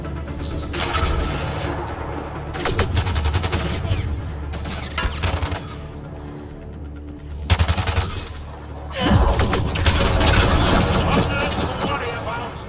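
A frag grenade explosion and rapid gunfire from the video game Mass Effect Andromeda, loud layered booms and sustained firing bursts with brief gaps, while game dialogue plays over the action.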